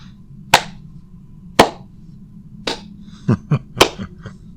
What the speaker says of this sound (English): until the clapping begins